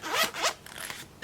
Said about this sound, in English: my sinking funds, which is in this zipper binder that I painted myself